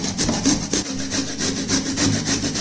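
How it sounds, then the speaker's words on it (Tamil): Sweet potato rubbed against a hand grater, a steady run of rhythmic rasping strokes, loud and close, with no voices. "இப்போ நம்ம இந்த கிழங்கை சீவிக்கிடுவோம்."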